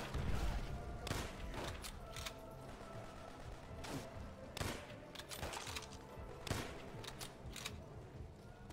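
Gunfire in the World War II shooter World at War, a battle scene of repeated sharp shots and short bursts at irregular intervals over rumbling background noise.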